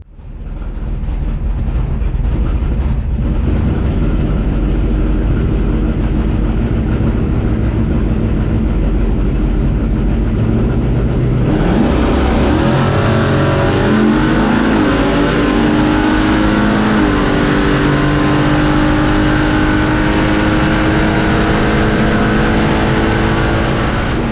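A C10 race truck makes test passes at a drag strip: a loud, continuous engine roar, then a sharp rise into a hard revving launch that holds at full volume to the end.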